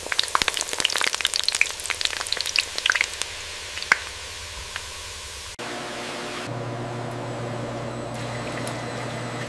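Crackling, popping sizzle of samosas deep frying in hot oil on a factory line, busy and spattering at first, then settling into a steady hiss.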